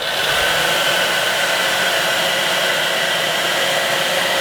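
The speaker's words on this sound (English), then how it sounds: "grab the blow dryer, put it on a low setting, go ahead and dry this first layer out" A blow dryer set to low runs steadily and loudly throughout, drying a first coat of airbrushed paint on a shad-pattern crankbait fishing lure, with a constant whooshing hum and no voices.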